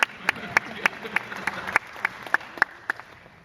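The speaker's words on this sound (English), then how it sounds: "Did you hear that smattering of applause for the Yard Crashers reference?" Scattered, sparse claps from a small audience at an Assassin's Creed fan panel, a few dozen separate sharp hits spread unevenly over a few seconds, fairly faint against the room.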